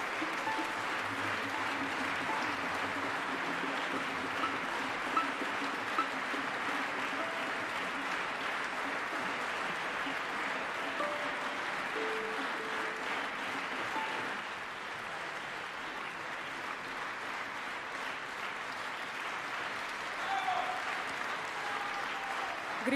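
Sustained applause from a concert-hall audience during an on-stage honoring ceremony, a dense, even wash of clapping that holds steady for over twenty seconds with only slight dips.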